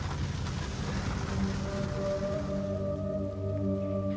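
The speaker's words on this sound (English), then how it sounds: "a little bit of rain hitting us now" Rain patters steadily on a camera crew outdoors at the North Rim of the Grand Canyon, a soft continuous hiss, joined later by a faint droning tone, with no voices.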